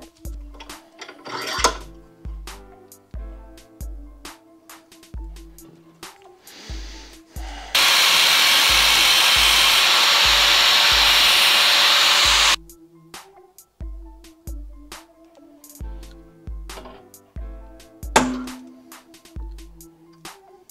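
A cordless power drill bores steadily into a metal screw held in a vise for about five seconds, loud and continuous, set between stretches of rhythmic background music.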